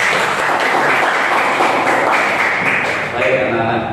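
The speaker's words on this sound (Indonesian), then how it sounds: "Tepuk tangan dulu." Classroom applause from schoolchildren, a steady dense patter of many hands clapping continuously for about four seconds, fairly loud and close throughout.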